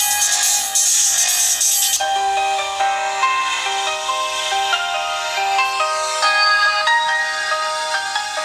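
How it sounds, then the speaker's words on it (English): Dubstep music playing from a Sony Xperia S phone speaker, thin tinny synth tones and a bright hissy wash that drops away after two seconds into sustained electronic notes, moderately loud and close. "Some dubstep."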